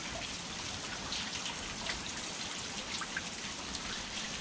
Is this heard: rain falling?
yes